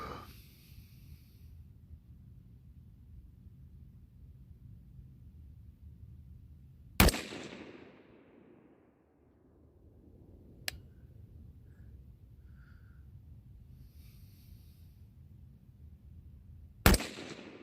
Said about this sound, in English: let's shoot a group at 100 meters.